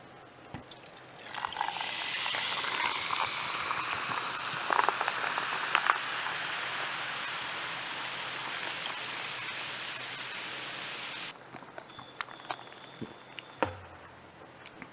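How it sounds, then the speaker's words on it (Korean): Cola poured over ice in a glass before a curry-chicken eating session, a loud, close fizzing hiss that swells and holds for about ten seconds, then cuts off, leaving faint crackles and small clinks. "콜라 따르는 소리를 그렇게 들려 주시던데 저도 뭐 해야죠 그러면은."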